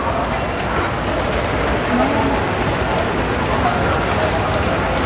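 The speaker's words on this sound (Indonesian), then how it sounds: "Hujan." Steady, loud rain pours down close by, a dense even hiss of drops hitting surfaces throughout with no breaks.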